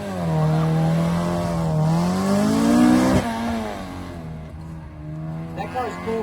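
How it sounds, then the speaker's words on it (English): A Honda race car at a grip shootout drives past with a loud, sustained engine note that rises and falls as it revs through a hairpin, with faint tire noise and a voice over it. "I still don't like the way Hondas sound."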